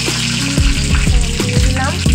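Spices, bay leaf, panch phoron and whole dried chilli hit hot oil with a loud, continuous close-up sizzle and crackle, with a few stirring scrapes.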